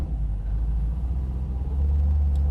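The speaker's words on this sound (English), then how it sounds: "And now we'll downshift into first." A car with a 4L80e transmission and a Holley Dominator setup downshifts into first gear. It gives a continuous close engine rumble that deepens and strengthens partway through.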